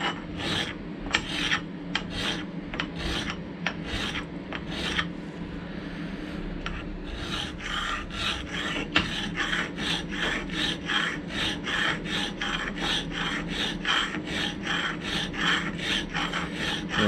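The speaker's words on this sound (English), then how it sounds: "I'm just going to stone these back and see whether or not I can do something with them." Hardened valve train parts from a BMC 1.5 engine are stoned by hand with a sharpening stone and WD-40, a rhythmic rasping stroke repeated steadily back and forth, close and fairly loud, with a short pause partway through.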